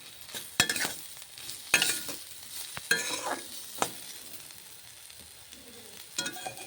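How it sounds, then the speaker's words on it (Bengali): Bitter gourd and pumpkin fry in a pan with turmeric, giving a soft, quiet sizzle broken by sharp clacks and scrapes of stirring at irregular intervals. "হলুদ দিয়ে আবার এটাকে ভাজতে হবে"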